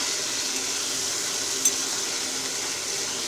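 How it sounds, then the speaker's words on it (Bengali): Ground spices stirred and fried in a pan for a pomfret fish curry, giving a steady, close, hissing sizzle with soft scraping throughout and one brief bright clink midway. "এবার খুব ভালোভাবে গুঁড়ো মশলাগুলো মিশিয়ে নেব মশলার সাথে, আর খুব ভালোভাবে কষিয়ে নেব।"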